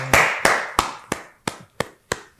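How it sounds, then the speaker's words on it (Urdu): Single hand claps at a steady rhythm, seven or eight sharp close strikes about a third of a second apart. No voices are heard. "سب کے لیے تالیاں."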